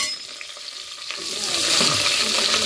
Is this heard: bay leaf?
yes